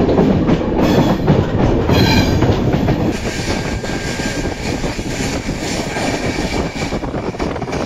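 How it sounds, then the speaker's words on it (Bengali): Saraighat Express train running along the tracks, heard from on board: a loud, steady rumble with rhythmic clatter from the wheels and rails, continuous throughout with no talking. "তো ট্রেন কিন্তু বেশ ভালোই চলছে"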